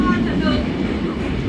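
The SE4 train heads north from Da Nang station toward Hanoi with a steady, close rolling rumble of rail cars, and a voice is faintly present beneath the noise.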